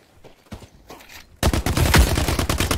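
Gunfire from The Cycle: Frontier PvP shooter breaks out as a sudden, loud rapid volley after a quiet stretch with faint scattered noises.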